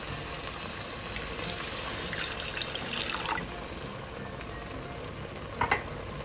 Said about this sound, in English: You will turn the heat to low and add in the water